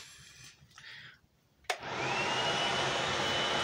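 Brief quiet shuffling gives way to a sharp button click, then a forge's loud, steady rushing air blower starts up and roars continuously.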